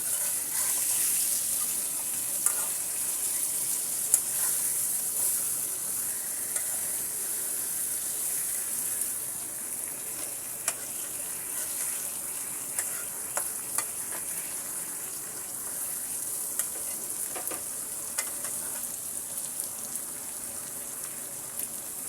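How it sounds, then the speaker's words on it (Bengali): Tomatoes frying in spice masala for a fish curry, a steady bright sizzle with occasional stirring scrapes and clicks, continuous and close with no voices. "টমাটোগুলোকে ঝোলের মধ্যে দিয়ে মশলার মধ্যে দিয়ে কষিয়ে নিব"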